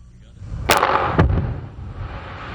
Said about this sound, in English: The chemicals used to create explosions in this marble quarry also produce chemical